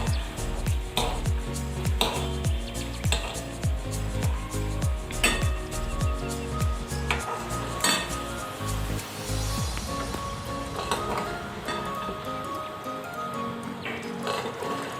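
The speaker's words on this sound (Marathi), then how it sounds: "असं हलवत हलवत राहायचं म्हणजे पाक जाड जाड होत नाही" A spoon scraping and clinking rhythmically against a pan as thin sugar syrup is stirred over low heat, steady regular strokes, fairly close, with bubbling liquid texture.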